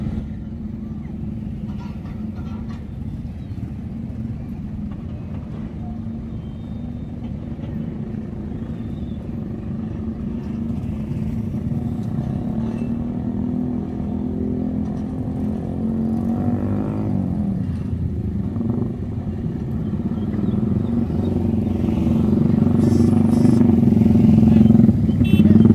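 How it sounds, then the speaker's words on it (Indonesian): Motorcycles rolling off the KMP Elvina ferry at Merak port in a steady engine drone of many bikes, growing louder toward the end with some revving, without speech. "Di sini ada bongkaran dari KMP Elvina nih, yang akan bongkar motor"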